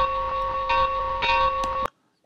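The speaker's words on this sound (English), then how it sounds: "So if I push F3, you're going to hear the bell." Locomotive bell from a JMRI virtual sound decoder rings steadily with a repeating clang over a constant tonal hum, close and loud, then cuts off abruptly into silence.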